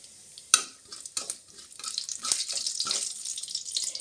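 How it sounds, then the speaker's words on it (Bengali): Cumin seeds and whole garam masala spices sizzle in hot oil in a pan, a sharp crackle at the start and then a steady, fairly quiet hiss with light stirring clinks and scrapes. "আমি প্রথমে ফোড়নে জিরে ফোড়ন দিয়ে দিলাম, তারপর হচ্ছে গোটা গরম মশলা দিয়ে দিলাম।"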